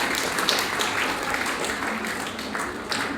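Audience at a school Class X graduation day breaks into sustained applause, a dense, even wash of many hands clapping throughout.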